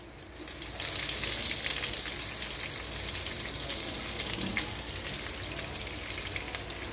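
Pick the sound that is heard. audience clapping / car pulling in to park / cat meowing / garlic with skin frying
garlic with skin frying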